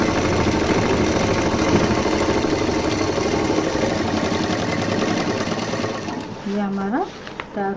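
A sewing machine runs a steady, loud, continuous stitch on a handbag, slowing and stuttering near the end before stopping.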